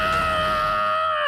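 A loud, sustained high-pitched scream from a character in the Phoenix Wright Ace Attorney video game, a single held cry that tapers off at the end.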